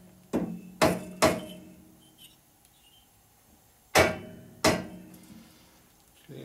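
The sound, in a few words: hammer adjusting motorcycle engine head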